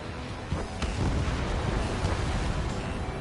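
A missile launch and explosion in the jet combat game Ace Combat 7, a broad roaring rumble with a few sharp bursts, moderately loud and sustained, with no talking.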